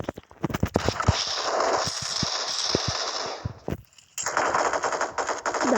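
Automatic gunfire in the mobile battle-royale game PUBG Mobile: rapid bursts of loud, close shots crack in quick succession, then a brief near-silent gap before another dense stretch of firing.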